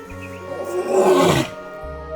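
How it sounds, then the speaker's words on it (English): A lion roars on the Maasai Mara savanna: one deep roar that swells and fades over about a second, loud and near, over a low background rumble. "Lions roar to announce their reign."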